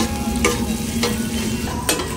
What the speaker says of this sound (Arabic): نزلنا بالسجق وعمالين بقى ايه نحمر فيه ونشوح في السجق